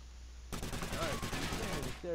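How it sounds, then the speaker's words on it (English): Rapid sustained gunfire from the tactical shooter Takedown: Red Sabre fills about a second and a half as a dense, loud continuous burst, followed by a brief voice right after it stops. "they're already shooting at me"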